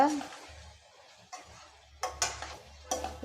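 A spoon stirs bitter gourd curry in a cooking pan, giving a few sharp metallic scrapes and clinks spaced through otherwise quiet moments, with a low background hum.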